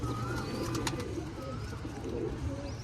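Domestic pigeons coo softly in a rooftop loft, low rolling calls repeating close by over a constant background hum, with a few sharper bird sounds mixed in.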